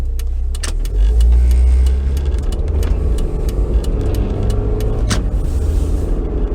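A car drives along a road and turns nearby, with steady road and tyre rumble, a low engine drone and occasional clicks, close and fairly loud, with no talk.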